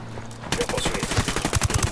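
Gunfire in the Ghost Recon Wildlands video game: after a brief quiet lead-in, a sudden dense volley of shots, then a rapid string of sharp bangs fired in quick succession, loud and close.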